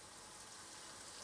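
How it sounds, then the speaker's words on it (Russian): Cold tap water runs over blanched cauliflower in a kitchen, a steady, even wash of faint running water with no pauses or voices. "Также в проточной холодной воде"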